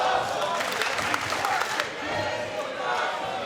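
A wrestling crowd at an NWA 75 event roars and cheers throughout, a dense, steady wash of voices with a slight dip midway before swelling again.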